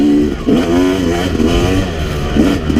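A Yamaha YZ250X two-stroke dirt bike engine runs loud and close, with a steady, pulsing engine note that swells and dips slightly as it is shifted into first gear.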